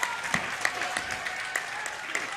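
Wrestling crowd cheering and clapping for Frank Stone in a steady dense roar, sharp claps standing out at intervals, with commentary underneath.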